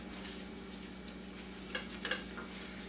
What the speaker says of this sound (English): Just mix that with your butter.